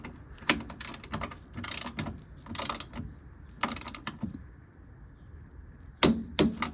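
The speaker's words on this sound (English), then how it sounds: "Now the front top hat is torqued down." A ratchet torque wrench tightens the front top hat bolts on a Nissan 200SX S12 being lowered, giving several close bursts of rapid clicking separated by short pauses, ending with a sharp final click.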